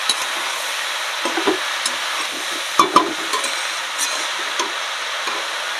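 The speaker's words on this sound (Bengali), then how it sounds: "লবণ হলুদ দিয়ে এবার ভালো করে আমি এটা কষাবো।" Chopped banana flower is stir-fried in a pan with salt and turmeric, giving a steady soft sizzle with a few light scraping stirs of a spatula, close and moderately loud, with no talking.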